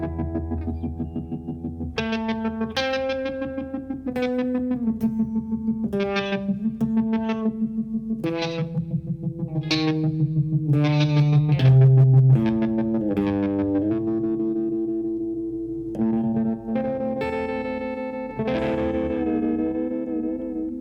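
Electric guitar notes and chords swirling with a sweeping, whooshing flanger effect, steady and fairly loud throughout, with no voices.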